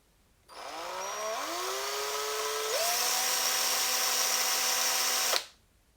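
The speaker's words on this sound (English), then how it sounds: "when I press the drill" A power drill starts up with a whine that climbs in pitch in two quick steps, holds a steady high buzz for several seconds, then cuts off abruptly.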